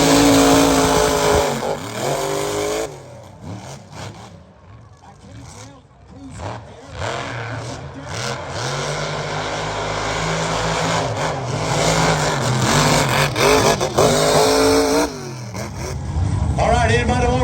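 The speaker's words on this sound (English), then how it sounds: "Heads up, unlimited mega truck." Unlimited mega trucks race in a lane at a mud-racing event, loud engines revving and roaring past in surges over about seventeen seconds, with crowd noise and an announcer's voice mixed in.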